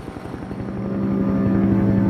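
Police helicopter flying overhead during a drug-smuggling pursuit at sea, a steady rotor thump that grows slightly louder and nearer over about two seconds, with no talk.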